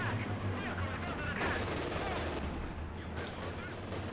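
Grenadiers' machine gun fire in the Company of Heroes 2 video game rattles as dense, continuous bursts amid battlefield noise, with bursts building and easing over a few seconds.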